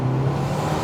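A Garrett turbo on a 2022 Subaru WRX under boost makes a loud, steady whirring drone over the engine's low rumble, heard close from inside the car.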